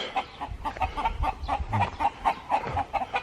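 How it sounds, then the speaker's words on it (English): A flock of noisy chickens clucks steadily and excitedly at close range, a busy rhythmic chorus of short calls with no talking. "lots of noisy chickens."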